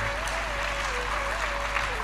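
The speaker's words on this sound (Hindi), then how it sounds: "ताली बजाने का मन करे जोर से बजाओ," Steady, dense applause from an audience at a Hindi devotional spiritual discourse, sustained and fairly even for the whole two seconds, with a faint tonal sustained sound running through it.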